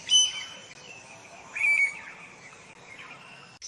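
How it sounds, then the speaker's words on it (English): Birds calling in a jungle: a few thin, high chirps and whistles, one near the start and a brighter burst midway, over a faint hissing background. "Monkeys and birds shrieked."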